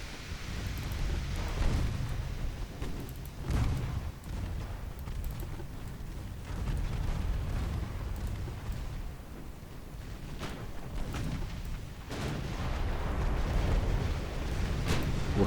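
Naval shell hits and explosions rumble through a pre-dreadnought era battle in Ultimate Admirals: Dreadnoughts, a continuous deep, booming roar with repeated heavy thuds and no clear breaks.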